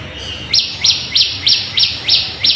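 A small bird, a sparrow or parakeet, chirps in a steady rhythm on a terrace garden, seven sharp, bright tweets close by, evenly spaced and clear against a quiet background.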